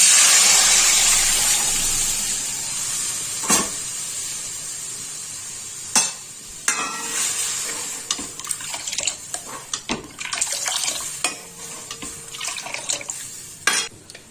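Dal hits a hot pan with a loud hissing sizzle that slowly fades, followed by scattered scrapes and knocks of stirring, close up with no talking.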